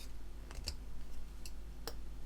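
A Swan Morton scalpel blade being fitted onto a number 3 handle with pliers, giving a few sharp metallic clicks and ticks spaced over a couple of seconds, close and fairly quiet, no talking.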